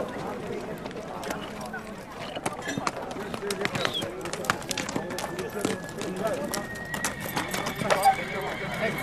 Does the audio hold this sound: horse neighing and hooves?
yes